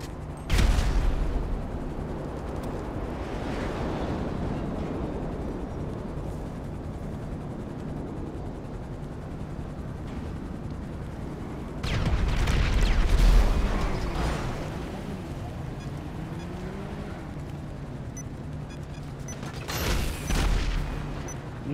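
Rocket explosions in GTA Online, heavy booming blasts at intervals over a constant rumbling drone, with a couple of strong detonations standing out in the mix.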